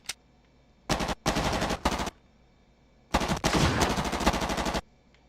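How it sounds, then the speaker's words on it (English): Video game gunfire rattles out in automatic bursts: a brief crack, then three short volleys and a longer sustained burst, loud and close with quiet gaps between. "I don't know where the shooting coming from."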